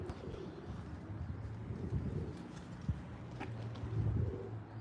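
Soft pigeon coos drift from a loft, low and fairly faint against a murky background hum, with a few brief scattered knocks and rustles.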